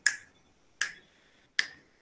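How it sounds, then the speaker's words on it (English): Fingers snap three times at an even pace, about 0.8 seconds apart. Each snap is a sharp, crisp crack that fades quickly into near silence. "why are you snapping your fingers thrice?"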